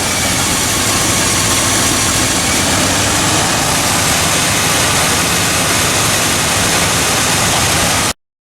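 A 1984 K20 truck engine runs close by, loud and steady, a dense unbroken rumble with a faint hiss that continues without change until it cuts off abruptly near the end, no voices.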